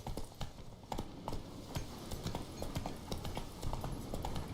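Horse hooves clip-clop steadily in The Witcher 3 video game, a brisk, close rhythm of hoof strikes over a faint game ambience, with no speech.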